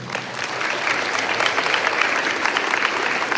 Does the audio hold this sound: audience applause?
yes